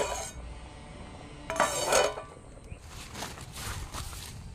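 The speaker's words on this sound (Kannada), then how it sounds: "ಆಮೇಲೆ ಪಾತ್ರೆಯನ್ನು ತೊಳೆಯೋದು" Pots and vessels being washed by hand give a run of scattered clinks and metallic clatter, with a louder burst of knocking in the middle, close by and without speech.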